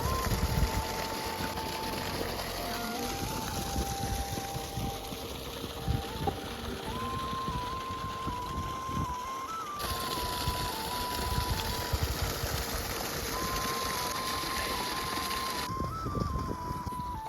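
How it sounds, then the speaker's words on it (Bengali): An electric water pump motor drains a flooded paddy field, giving a steady, loud mechanical drone with a sustained whine that wavers slightly in pitch, running continuously outdoors. "মাঠে অনেকটাই জল রয়েছে তাই এক দেড় ঘন্টা মতো মোটর চলছে"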